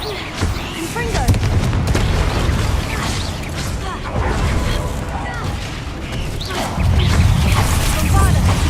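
The Confringo fire spell exploding during a troll fight in the video game Hogwarts Legacy, heavy booming blasts and crashing impacts layered over dense battle noise, with voices calling out spells.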